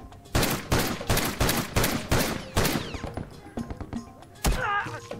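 Full-auto gun firing in The Last of Us multiplayer: a loud, close series of about eight evenly spaced heavy bursts, then scattered lighter shots and clatter.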